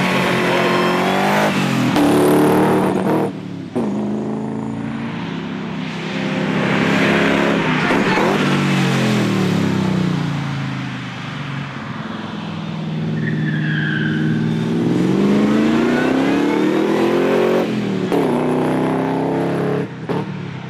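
A Triumph Stag V8 sports car drives and accelerates hard, its engine note rising and falling loudly through repeated revving with brief tire squeal, no voices present.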